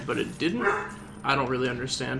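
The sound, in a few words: dog barking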